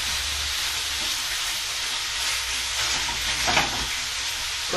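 Meat sears in a hot pan for a gambol stew, giving a steady, dense sizzle with a brief scrape of stirring partway through and no voices.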